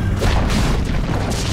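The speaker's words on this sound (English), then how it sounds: "Dire's top tower has fallen." A tower being destroyed in the video game Dota 2 gives a loud, rumbling crash and boom that fills the short moment with a dense burst of explosive noise.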